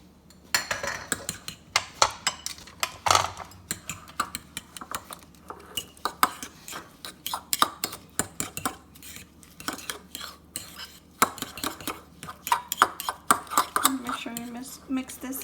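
Spoon clinking and scraping in a bowl while churro chaffle batter is mixed with half a cup of pork crumbs, steady irregular stirring clatter close up, with bits of talk over it.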